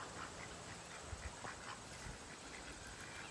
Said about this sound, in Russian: Это дикие утки.